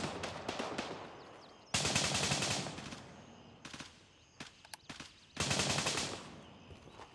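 Gunfire in the video game Gray Zone Warfare: loud bursts of automatic fire in two long volleys, separated by scattered single shots and short rattles, with no talk.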